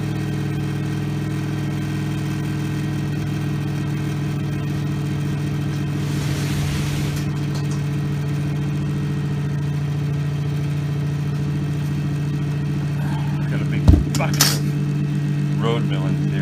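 Vibration motors hum steadily on a scratch-built model road milling machine, a constant mid-pitched buzz with a brief rattle and a sharp click near the end.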